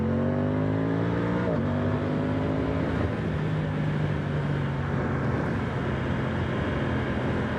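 An Aprilia Tuono 660 Factory motorcycle engine, 2025 model, pulls along twisty roads. It revs with a steady drone, drops pitch on a gear change, then holds a lower hum under constant wind rush.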